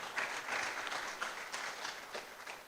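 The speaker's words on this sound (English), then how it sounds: "Chomakwara, clap for him, please." An audience at a university inaugural lecture breaks into brief, lively applause, many hands clapping together in a short burst that holds steady and then begins to thin.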